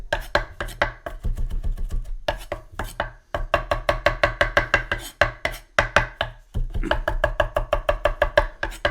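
Sharp knife chopping cilantro on a cutting board for salsa, with rapid, rhythmic close-up chopping bursts separated by brief pauses.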